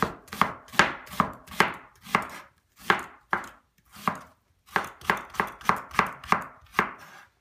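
An onion is sliced with a knife on a board, a quick run of about eighteen crisp, close chopping strokes in short rhythmic bursts with brief pauses, no talk.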